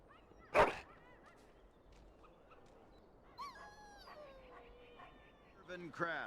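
A dog barks in the fantasy game Dragon Age: Origins, set in the city of Denerim, with one sharp bark near the start and a few yips and whimpering calls toward the end over quiet game ambience.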